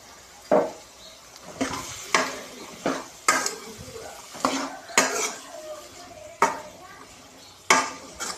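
A spoon stirs chickpeas and tomato in a pan for a Telangana-style dish, giving sharp scrapes and clinks at an uneven rhythm, about ten strokes close by, with a faint sizzle between them.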